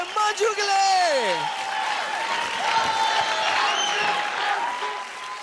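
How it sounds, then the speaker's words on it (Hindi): Studio audience applauding and cheering a dancer's power-packed stage performance on a televised dance competition, loud steady clapping with shouts, opening under a falling synth sweep. "जोरदार तालियां हो जाए मंजू के लिए"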